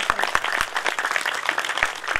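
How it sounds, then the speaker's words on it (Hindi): Audience at a Shrimad Bhagwat Katha gathering clapping together, a dense stream of hand claps with a few sharp louder strikes standing out, steady and fairly close throughout. "ध्वनि मत से तालियां।"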